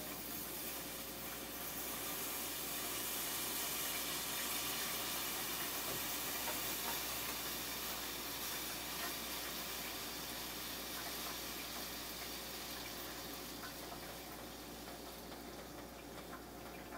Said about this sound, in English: we're gonna boil this until it sticks to the back of the spoon